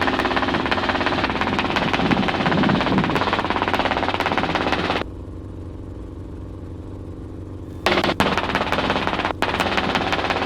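A tour helicopter flying over Los Angeles from downtown toward the ocean: loud, fast rotor chop and engine roar that drops to a muffled hum for a few seconds before returning at full strength.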